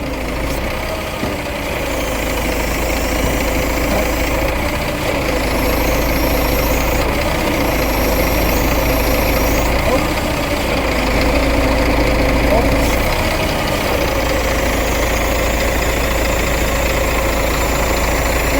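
A motor engine idles steadily for the whole stretch, a loud, continuous low rumble with vibration and a faint voice now and then.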